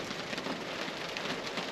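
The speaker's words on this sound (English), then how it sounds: "enlightening and wonderful sound and feeling you get when you're out in the rain camping like this" Rain patters on a truck at a rainy campsite, a dense, steady hiss of drops with no voices.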